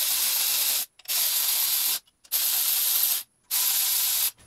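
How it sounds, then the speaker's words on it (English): Impact gun on its lowest setting running in intake manifold bolts on a Mercedes M112 engine, four steady hissing bursts of about a second each with short silent gaps, close and loud with no talk. "So we got the gun on the lowest setting, and this is gonna help me whiz them in."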